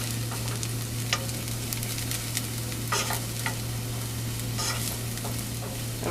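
Garlic browns in a hot pan with a steady soft sizzle under a constant low hum, punctuated by occasional scraping stirs and light clinks.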